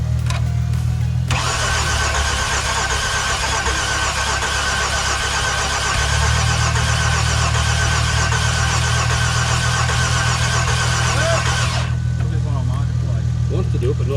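Rough, uneven car engine cranking and catching while running on only one cylinder, a steady loud mechanical drone in an outback pub car park during a rally, with brief talk at the start.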